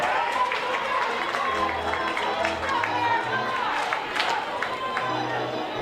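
Spectators at a girls' Division III state semifinal softball game between Dover and Western Brown make a continuous murmur of chatter and scattered calls in an open ballpark, with voices rising over the steady crowd noise.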